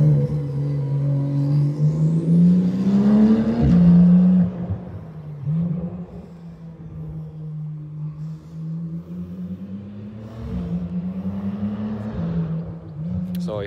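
A powerful turbocharged Porsche 935 race car engine revs and roars up and down over several seconds, a deep rumbling drone rising in pitch, then easing off before surging again.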